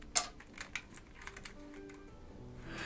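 Switches being pulled off a dusty vintage Alps keyboard plate make a few sharp plastic clicks and snaps close by, with quieter rattling in between and no talking.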